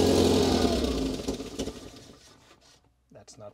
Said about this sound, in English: the engine itself sounds pretty well, actually